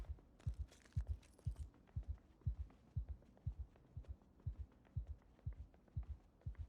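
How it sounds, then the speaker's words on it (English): A steady panicked heartbeat pulses in Project Zomboid, double thumps repeating about every half second, loud and alone with a brief hiss near the start. "Panic has enough downsides without me needing to hear the heart beating"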